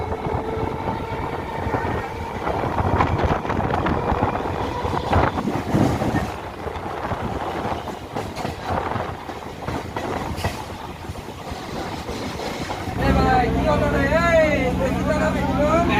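Local train on the Howrah to Katwa line rumbling along with broadband clatter and wind rush, people talking over it, then a louder steady section near the end with tonal whining as the train runs on.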